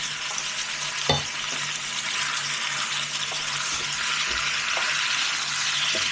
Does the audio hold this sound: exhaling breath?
no